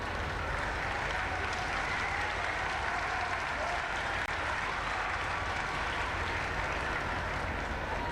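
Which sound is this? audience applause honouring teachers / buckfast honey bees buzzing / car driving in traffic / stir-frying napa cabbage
audience applause honouring teachers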